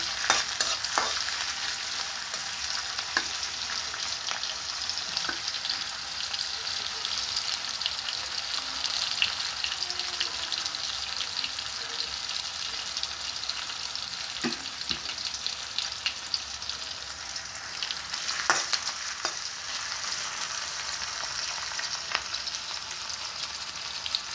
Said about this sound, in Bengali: পেঁয়াজ কুচি দিয়ে আমি একটু নাড়াচাড়া করে দিচ্ছি।